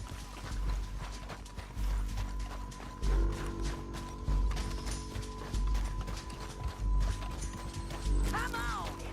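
Horses' hooves clip-clop steadily on the ground in Red Dead Redemption 2, a rhythmic thudding gait with heavy low footfalls and occasional tack jingles, close and continuous, with a brief whinny near the end.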